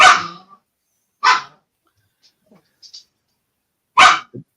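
A dog barks three times, loud and close, with long pauses of near silence between the sharp barks and a soft trailing yip after the last.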